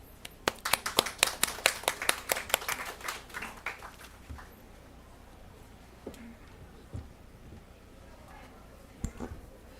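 A small audience at a round table meeting on carbon-free energy gives a brief round of clapping, close and crisp, fading after about four seconds into quiet room tone with a few scattered taps.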